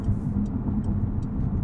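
A 2021 Porsche 911 Turbo S on a night drive gives a low, guttural, throaty engine rumble heard from inside the car, steady and fairly loud, with faint regular ticks above it.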